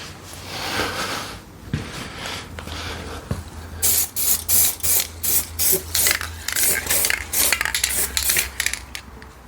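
A spray can coats motorcycle parts for a budget Honda NTV 650 cafe racer, first one long hiss and then a run of short, even bursts, close and fairly loud.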